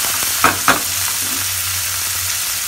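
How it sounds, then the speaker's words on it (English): Fried food sizzles loudly in a pan for a dhaba-style pulao while a spoon knocks and scrapes twice early on, then a continuous close frying hiss carries on alone. "They are nicely fried."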